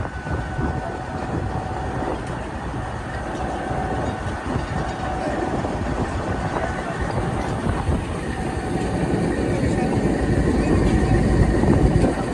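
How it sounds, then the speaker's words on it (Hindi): A train creeping slowly over a freshly repaired stretch of railway track in Pakistan after a major accident, a steady low rumble with faint wheel clatter that builds gradually louder as it passes nearby. "बहुत ही केयरफुली यहाँ से पास कराया जा रहा है ट्रेन को।"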